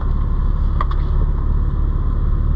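A 2003 Mitsubishi Eclipse GTS Spyder with a 3.0L V6 and manual gearbox given a little gas, a loud, steady close engine drone with a faint brief click partway through and no talking.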